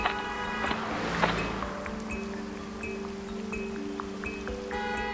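Steady rain falls on a street where a young girl stands soaked selling candles, a continuous wet patter with some musical tones layered over it and no voices.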